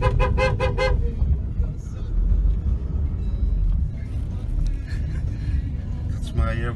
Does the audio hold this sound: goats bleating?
no